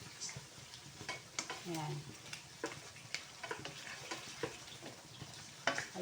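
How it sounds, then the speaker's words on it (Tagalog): Chicken kaldereta with tomato paste being stirred in a pan, a soft sizzle with repeated scraping and clinking of the spoon, and a brief spoken word over it. "Haluin lang natin ng konti."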